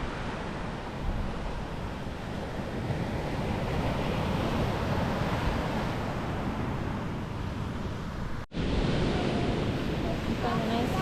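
Ocean surf rolls onto a secluded beach in Costa Rica, a continuous roar of breaking waves mixed with wind buffeting the microphone, cut by one brief dropout near the end.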